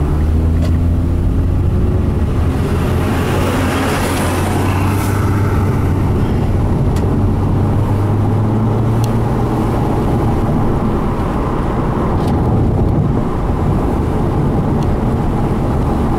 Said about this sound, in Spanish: A pasar en este autobús después de ese carro rojo